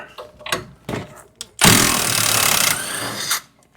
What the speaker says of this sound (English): Now it's time to remove the rear sway bar bolts.